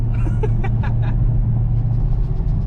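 A 2017 Dodge Charger Hellcat engine roars at full throttle, a loud low rumble with some brief higher scraping sounds at the start.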